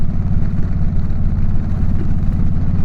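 Indian motorcycle engine running steadily while riding on the road to a dealer, a loud, continuous low throbbing drone with no voices.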